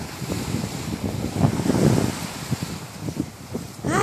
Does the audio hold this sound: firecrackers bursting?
no